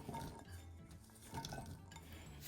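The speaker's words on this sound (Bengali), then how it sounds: "এবার একের পর এক সব সবজিগুলো আমি দিয়ে দিচ্ছি" Vegetables, green peas first, drop one after another into hot ghee in a pan for a microwave pulao, with soft clinks and scrapes of utensils against the dish, close and quiet, with no talk.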